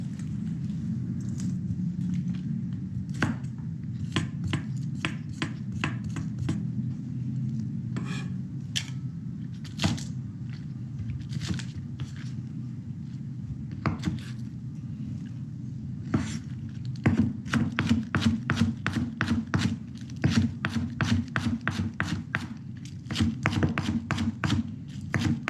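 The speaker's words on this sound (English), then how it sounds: "now that we're done with the chopping" Green onion being chopped with a knife on a cutting board in a home kitchen, with rapid, sharp, even taps that speed into dense bursts over a steady low background hum.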